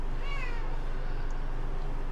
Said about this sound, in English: Poor cat.